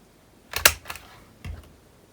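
Paper corners being cut for a handmade mini album: a few sharp snips close by, two clustered together and then a single one a moment later, with no talking.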